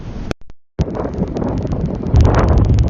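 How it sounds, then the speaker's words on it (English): Strong wind buffets a microphone in a UK park with loud, rough rumbling gusts, briefly cutting out before roaring back and swelling louder near the end. "it's jolly windy, shall we say"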